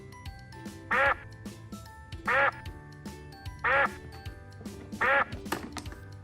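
Four loud, evenly spaced duck quacks, each a short nasal burst about a second apart, over a light musical backing with small taps and clicks.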